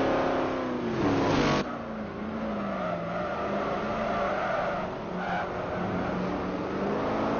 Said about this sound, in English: That's a great shot of all those cars going through that horseshoe.